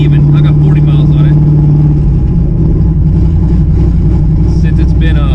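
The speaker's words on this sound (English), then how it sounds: "So the engine's still cold, but it's not dying." A freshly rebuilt 1986 Mustang GT engine running cold, a loud steady low rumble holding throughout with a brief higher tone early on, while someone talks over it.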